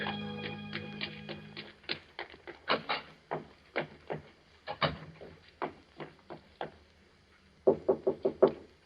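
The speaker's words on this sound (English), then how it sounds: "I waited for her knock." Knocking on a door as a radio drama sound effect: a long run of sharp, close raps in uneven groups, ending with a quick cluster of four knocks.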